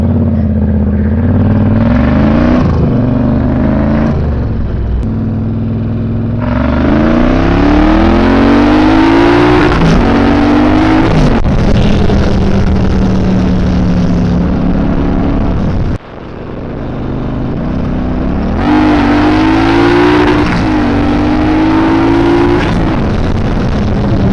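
A loud, raspy bobber motorcycle engine with a modified stock exhaust revs repeatedly, climbing and falling in pitch through several surges, with a brief cut-out near the middle.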